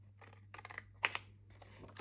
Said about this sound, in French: paire de ciseaux tout simplement suivre le trait jusqu'à la première ligne horizontale